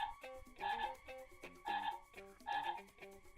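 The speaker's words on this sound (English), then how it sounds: "It's a frog this time." A novelty classroom doorbell plays a frog-croak sound effect: three loud, evenly spaced bursts of electronic croaking with no one talking.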